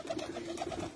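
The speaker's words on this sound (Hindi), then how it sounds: "न्योरा वाले कबूतर हमारे" Niyora flying pigeons coo softly and close by in a steady rhythm of repeated low throaty notes, with no voices.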